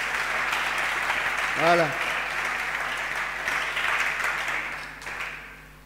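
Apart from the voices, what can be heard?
congregation applauding to acclaim the Lord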